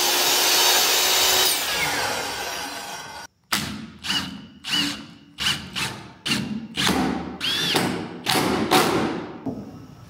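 A power drill driving screws to fix a framed shed-style roof wall into place on a modern home build: a sudden start, then a run of short whirring bursts with thuds between them, loud and close.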